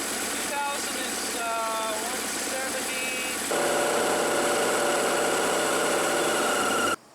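Jet boat engine idling steadily nearby, a constant mechanical drone that shifts to a higher, busier pitch partway through before cutting off, with a voice speaking over it.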